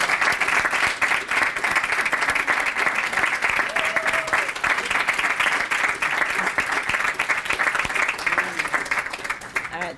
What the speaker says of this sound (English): let's please have a round of applause for our future educators.